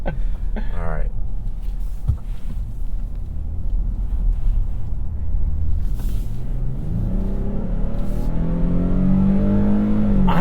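A 2022 Nissan Frontier pickup truck engine rumbles and revs up, its pitch climbing steadily toward the end, heard from close by with some voices in the background.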